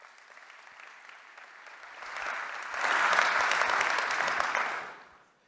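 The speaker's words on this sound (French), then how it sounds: "On peut vous applaudir." An audience at a large plenary forum session breaks into applause, starting softly and swelling into a full, dense wash of clapping before tapering off, heard from within the hall.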